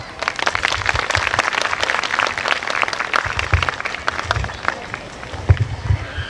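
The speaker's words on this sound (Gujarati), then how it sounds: "તો ડુંગરસિંહ દાદાના લાગણીશીલ શબ્દો માટે જોરદાર તાળીઓ થઈ જાય" Loud, sustained crowd applause at a Navratri Garba program, a dense wash of many hands clapping steadily for several seconds with a few louder thumps near the end.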